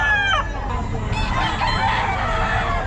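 A nine-month-old yellow-legged hatch gamecock rooster crows at a busy pet market, one drawn-out call rising and falling over a dense low crowd murmur, with other fowl faintly audible nearby.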